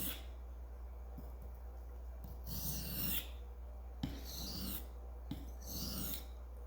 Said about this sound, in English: we're gonna move forward to our hard Arkansas next